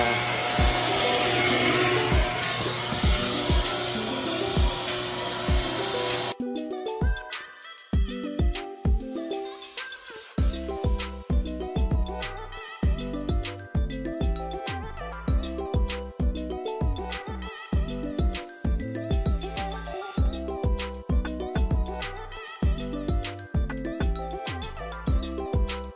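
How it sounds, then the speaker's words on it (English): A vacuum cleaner roars with a steady, dense hiss for several seconds while cleaning a 2018 Chevrolet Silverado Z71 interior, then gives way to a rhythmic, pulsing pattern that continues to the end. "It's not vacuuming that properly, as you can see little spots"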